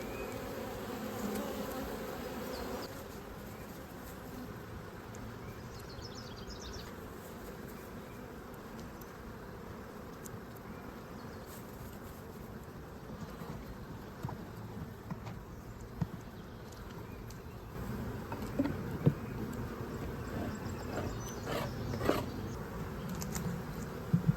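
Honey bees being moved into a 10-frame hive, a steady dense buzzing hum that lasts throughout, with light knocks and handling clatter of frames growing more frequent toward the end.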